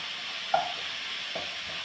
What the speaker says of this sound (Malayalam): ടൊമാറ്റോ ചെറുതായിട്ടൊന്ന് ചൂടായി കഴിയുമ്പോൾ ജിഞ്ചർ ഗാർലിക് പേസ്റ്റ്, ഇഞ്ചി വെളുത്തുള്ളി ചതച്ച് വെച്ചിരിക്കുന്നത്